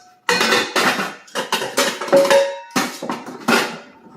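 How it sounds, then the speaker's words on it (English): Metal lid set on a cast iron skillet in a home kitchen, a series of close clanks, rattles and scrapes as it is handled and fitted. "I need a lid. And I just happen to have a lid that works on my iron skillet"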